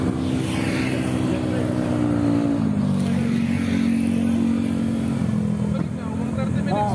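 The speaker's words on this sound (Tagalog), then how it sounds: "Ang dami yung motor, no?" Motorcycle and vehicle traffic on a busy Manila street near Rizal Park, a loud, continuous engine drone with shifting pitch as bikes pass nearby, with speech-like sound mixed in.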